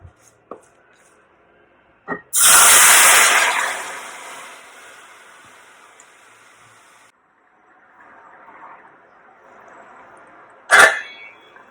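Rasam poured into a hot pan of oil tempered with mustard seeds and dried red chillies, a sudden loud sizzle that fades into a long hiss, followed by a few sharp clatters, close and without talk.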